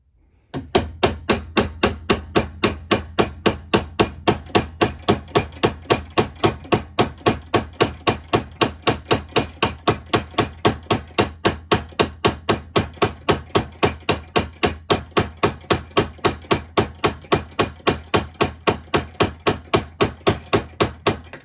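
A steady series of sharp metallic hammer taps drives a Kimber K6s revolver sight into its dovetail, roughly four strikes per second, close and loud, continuing evenly for the whole stretch without speech.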